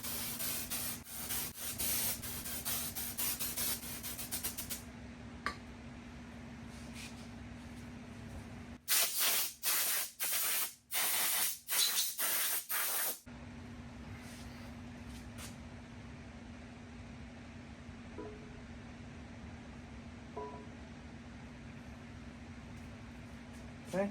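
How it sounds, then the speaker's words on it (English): A close aerosol can of WD-40 hisses in a long continuous spray, then several short sharp bursts, followed by quiet handling noises. "I did spray it down with some WD-40 just so it wouldn't rust while it sat."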